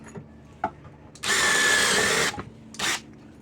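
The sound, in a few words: power drill drilling holes through resin handle scales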